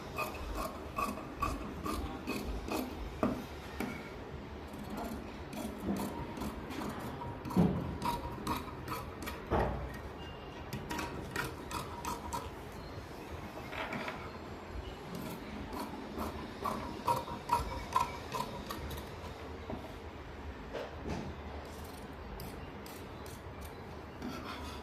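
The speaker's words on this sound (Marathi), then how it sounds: "आता आपण जसं आखलेलं आहे तसं कट करायचं." Scissors cut blouse fabric along chalked lines for a size 40 padded blouse, giving steady close rasping snips and small mechanical clicks that repeat throughout with no talking.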